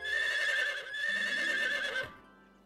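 A cartoon horse gives a long, loud neigh in two strong whinnying surges that cut off abruptly, with a faint low rumble beneath and no speech.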